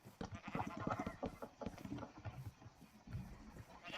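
Sheep bleat repeatedly on a Minecraft farm, a run of short, fairly loud calls overlapping one another with hardly a pause, close by and with no talk.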